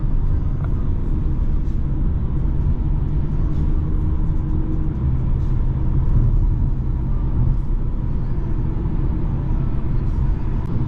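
A BMW cruising on the German autobahn in traffic, heard from inside as a steady low road rumble and engine drone that stays even throughout, without speech.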